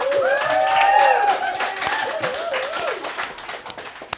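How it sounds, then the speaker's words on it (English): An audience claps and cheers at a women's business showcase, lively clapping under excited whoops and chatter, tapering into scattered claps by the end. "They get excited and clap about things like that."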